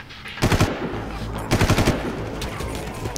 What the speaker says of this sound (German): Wir hatten jetzt schon wieder geschossen